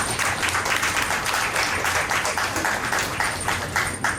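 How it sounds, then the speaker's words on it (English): A crowd applauds the students at a school celebration event, dense clapping held steady and fairly loud for several seconds with no voices over it. "So a huge round of applause for the students"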